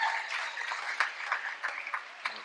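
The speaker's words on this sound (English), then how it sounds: "Give them a hand of applause." An audience applauds graduates at a graduation ceremony, a steady wash of clapping with scattered sharper claps, moderately loud and fading slightly toward the end.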